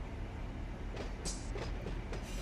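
A long train hauled by four locomotives rolls along in Run 8 Train Simulator, giving a steady low rumble with faint rail clicks and a brief higher squeal partway through.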